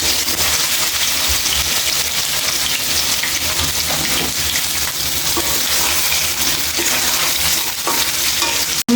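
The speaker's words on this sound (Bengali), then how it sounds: "এখন আমি কচুরমুখীগুলো ভেজে নেব।" Taro corms (kochur mukhi) fry in a pan of hot oil with a loud, dense, continuous sizzle like heavy rain, stirred now and then, with no talking.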